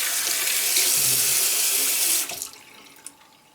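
A tap runs steadily with a broad hiss of water for about two seconds as soap is rinsed off hands, then shuts off, leaving a few faint drips and clinks.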